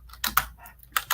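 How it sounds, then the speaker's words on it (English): Keys clatter on a computer keyboard in a few quick bursts of typing, close and clear, with short pauses between the clusters of strokes. "I'm just typing it here because I don't have a field to type here."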